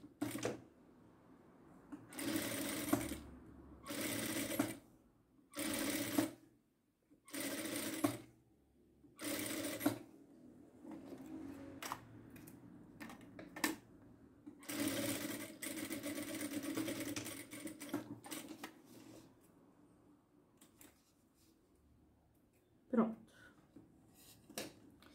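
A sewing machine runs in repeated short bursts, stitching bias binding onto a zipper, its clatter starting and stopping several times before one longer run, with a person talking over and between the bursts.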